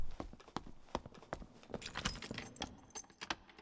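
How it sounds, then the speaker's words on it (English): Footsteps in the Dark and Darker dungeon game, a run of sharp, irregular clacking steps with metallic jangles, fairly close and growing busier partway through, with no speech. "just as soon as we start looting this, we hear footsteps"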